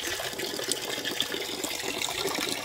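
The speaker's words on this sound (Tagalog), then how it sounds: "Pinagana ulit natin yung water pump natin na maliit" A small water pump on a farm water system pushes water through a temporary pipe, giving a steady, soft rushing and gushing flow that runs on without pause at a modest distance.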